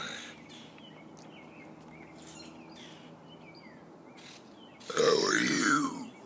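A man burps loudly near the end, a short throaty eructation that follows several seconds of quiet room tone with faint bird chirps in the background.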